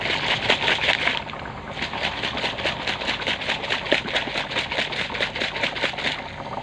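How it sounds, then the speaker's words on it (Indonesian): A container filled with smoke and water is shaken vigorously, producing rapid rhythmic sloshing and rattling bursts, close and continuous with a regular beat and no talking. "setelah asapnya penuh, kita kocok"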